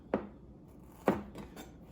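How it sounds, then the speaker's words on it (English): A knife strikes a cutting board twice while vegetables are cut into fine brunoise dice, each a sharp, close knock roughly a second apart, followed by fainter taps. "Then I'm going to do brunoise with the other cuts."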